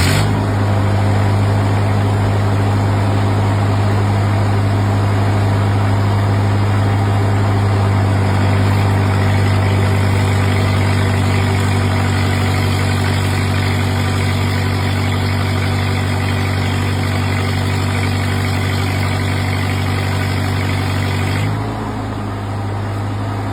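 A used engine-driven welding machine idles with a loud, steady, close engine drone that holds even for most of the clip, then drops slightly in pitch near the end.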